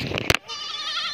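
Young goat kids bleat in a farmyard, one short loud cry followed by a sustained, wavering bleat, with voices and other animals nearby.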